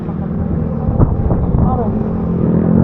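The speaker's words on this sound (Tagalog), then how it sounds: "Sabi lakas ng hangin dito." Strong wind buffets a microphone outdoors at a roadside eatery on a motorcycle breakfast ride, a continuous loud low rumble with gusts, while people talk faintly underneath.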